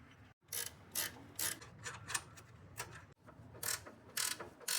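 A ratchet wrench tightens a bolt on a Motorfarm 3-inch suspension lift kit fitted to a Suzuki Jimny, rapid close clicking in several bursts with brief pauses between strokes and no talk.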